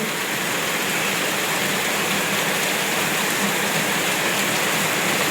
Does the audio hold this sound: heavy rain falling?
yes